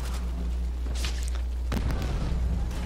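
Grenade explosions in Call of Duty: World at War, a WWII shooter: two heavy booming blasts about a second apart over a steady low rumble of battle, with no talking.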